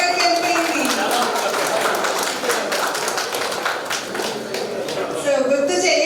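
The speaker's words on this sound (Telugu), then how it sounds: "సరే అందరూ చప్పట్లు కొట్టాలి." Audience at a 1983-84 Nuzvid ZPH High School reunion clapping steadily throughout, a dense crowd applause with a voice over it near the end.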